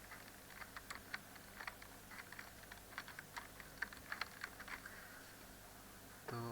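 Computer keyboard typing into Microsoft Word, with a quick, irregular patter of light key clicks, fairly close and quiet, ending in a brief louder clatter, with no talking.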